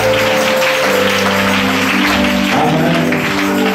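Steady, dense applause from a large church congregation, loud and continuous throughout, with a sustained tone and murmur beneath it.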